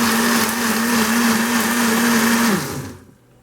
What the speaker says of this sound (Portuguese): o nosso relé caseiro também está funcionando aí com o liquidificador.